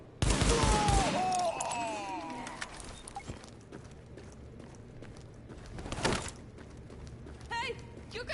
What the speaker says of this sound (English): Shooting never ends.